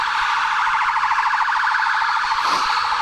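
An ambulance siren wails steadily through traffic, its rising and falling tone loud and continuous for the whole stretch, with no voices over it.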